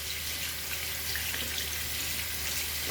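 A makeup brush is rinsed under warm running water from a tap: a steady, close hiss of flowing water, constant throughout with no breaks.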